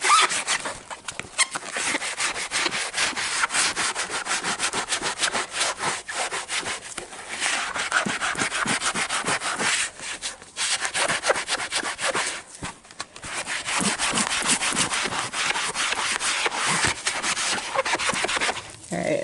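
An eraser is rubbed hard against goalie pads to scrub off dirt, making a close, continuous dry scratching and scrubbing noise in quick back-and-forth strokes that runs the whole time with only brief pauses.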